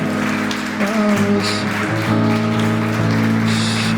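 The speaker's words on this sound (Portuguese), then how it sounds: "Aplauda o nome do Senhor Jesus nessa manhã, mais alto que você puder" A church congregation claps during a morning service, a loud, dense patter of hands over sustained musical tones that continues for the whole stretch.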